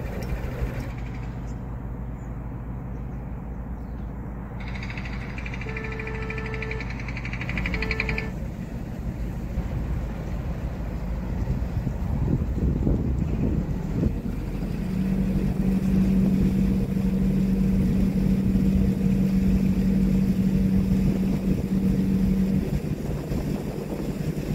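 A narrowboat engine drones steadily on a canal, with wind buffeting the microphone and a low hum rising in the second half.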